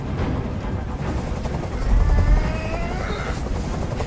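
A steady low rumble of a helicopter hovering nearby, loud and continuous, swelling briefly midway with a deeper thudding boom.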